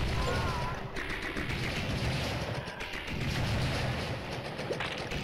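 Pistol shots in Blood and Bacon, a co-op shooter, pop repeatedly amid dense game noise and continuous combat din, with people talking over the action.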